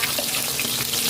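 Garlic, onion and ginger sauté in hot oil in a pan, a dense, even sizzle that holds steady for about a second, close and fairly loud, with no voices.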